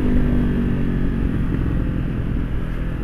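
Honda CB500X touring motorcycle on a test ride, its engine a steady loud rumble with road and wind noise running continuously throughout, no voices over it.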